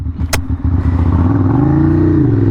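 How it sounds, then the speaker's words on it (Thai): A Ducati Monster 795 motorcycle exhaust revving loudly up close, deep rumbling throb rising in pitch then easing, preceded by a brief sharp click. "เสียงเบิ่มมาก ท่อฟูเอสซีนะ"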